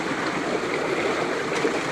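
Water rushes steadily and strongly through a gold panning sluice box with a screen, a constant close splashing wash with no talking.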